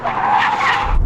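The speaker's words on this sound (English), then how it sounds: "ABS on this car kicked in quite late. It locked up" Car tires skid and squeal loudly during an emergency brake test on a track, a sustained harsh screech as the wheels lock up, cutting off after about a second.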